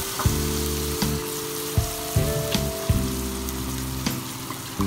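Cooking wine splashed over fish in a hot wok over high heat for a stew, a loud close sizzle with bursts of crackle over a steady hiss, no talking.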